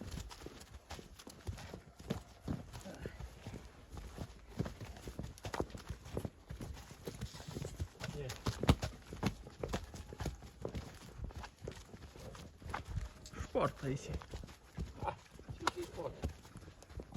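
Draft horse hooves clop steadily on a hard surface at a walking pace, close by, while a person speaks occasionally over the footsteps.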